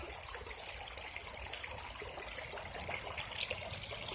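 A stream flows steadily past green brush and trees, a continuous broadband wash of moving water that holds even and fairly close for the whole stretch, with no voices over it.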